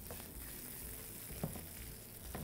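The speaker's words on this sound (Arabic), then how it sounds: "فهي رح نحطها هيك ونحمصها" Vermicelli toasting in butter in a pan, a soft steady sizzle with a few faint scrapes of stirring, fairly quiet and without any voices.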